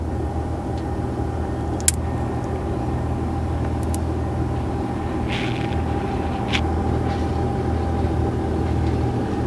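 A diesel truck engine idles close behind, giving a constant low rumble that runs unbroken under a few faint clicks and taps.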